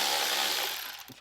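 A ratchet with a 5/16 socket backs bolts out of a John Deere S100 lawn mower, giving one short, dense burst of close clicking that slows and fades toward the end.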